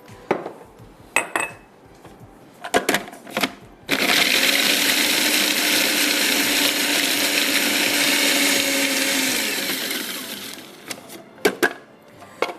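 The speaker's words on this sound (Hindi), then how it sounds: "फूड प्रोसेसर में।" A food processor grinds cookies into crumbs for a mango chocolate dessert, a loud continuous whirring roar running about six seconds after some clattering and handling.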